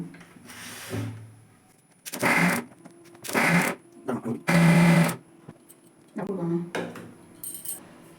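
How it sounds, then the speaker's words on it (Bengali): Electric mixer grinder blending tomatoes for homemade ketchup: several short bursts of a loud motor whir, each a second or so long, separated by pauses with someone talking quietly. "ঢাকনাটা বন্ধ করে দিচ্ছি দিয়ে আমি মিক্সিটাকে একটু ঘুরিয়ে নেবো"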